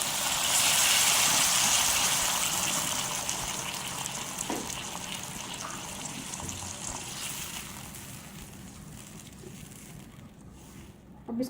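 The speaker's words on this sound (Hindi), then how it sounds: "अब इसमें हम 2 गिलास पानी शामिल करेंगे।" Two glasses of water gush and splash steadily into a pot of rice for cumin rice, loud at first and gradually easing off, ending with a brief clatter.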